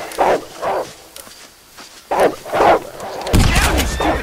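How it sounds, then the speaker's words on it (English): Dogs barking repeatedly in the Western video game Red Dead Redemption, several sharp woofs in bursts, loud and close, with a thud and game ambience toward the end. "Down, you stupid dogs!"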